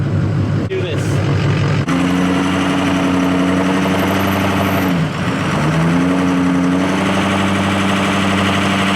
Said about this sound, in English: Turbo just made that noise. Listen. Hear that rumble right there? It means that the turbo's off.